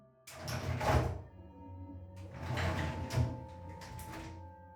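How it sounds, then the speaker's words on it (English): A door slides or creaks open in two drawn-out scraping movements with a soft thunk, fairly faint and close, in an otherwise quiet room with no voices. "It sounded like someone was opening doors, one by one."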